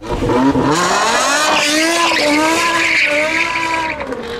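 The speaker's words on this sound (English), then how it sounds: "This gem of a naturally aspirated engine was BMW's first and last production V10, and with 500 horsepower on tap" The naturally aspirated V10 of a BMW M5 E60 sedan howls loudly under hard acceleration, its high-pitched wail rising and shifting through the revs, with tire squeal mixed in throughout.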